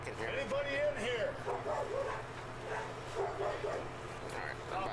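A dog barks and yips repeatedly in short bursts, with whimpering tones mixed in, heard moderately close over a steady low background hum.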